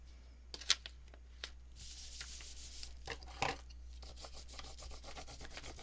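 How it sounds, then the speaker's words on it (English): A paper envelope booklet for a junk journal is burnished by hand to spread wet glue: soft, quiet rubbing and rasping strokes with a few sharper taps, close up, with no speech. "Just going to burnish this a little bit to spread all my wet glue"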